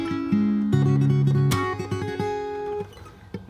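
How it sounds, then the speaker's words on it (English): A fingerstyle acoustic guitar plays quickly repeated picked notes on the same pitch in a tremolo style, with a few shifting notes ringing out clearly and close, fading near the end. "so it'll be a lot of kind of like tremolo picking"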